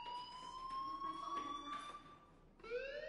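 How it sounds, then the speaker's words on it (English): A fire alarm in a PS4 video game sounds as a steady electronic tone with harmonics, ringing continuously for about two and a half seconds before a rising, warbling alarm pattern kicks in near the end. "do you hear that fire alarm?"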